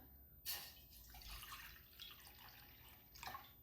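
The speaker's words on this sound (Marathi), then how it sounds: "हे पातेल्यामध्ये पाणी घालायचं आपल्याला" Water pours into a cooking pot in the kitchen to be heated for soaking wheat, making a sudden splash and then a continuous trickling, quiet stream with another surge near the end.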